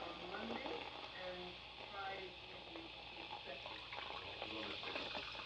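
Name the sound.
soda being poured into a glass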